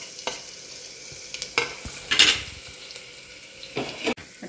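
Green chili paste and whole spices hit hot oil for a Maharashtrian misal, giving a soft sizzle broken by a few sharp clinks and scrapes of stirring against the pan.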